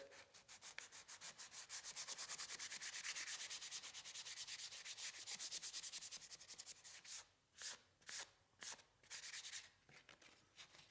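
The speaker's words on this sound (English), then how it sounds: "So let's go ahead and we'll sand it up a little bit." Hand sanding of a wooden baseboard miter joint with 220-grit sandpaper, close and soft: steady rapid back-and-forth rubbing strokes, then shorter separate passes near the end, with no voices.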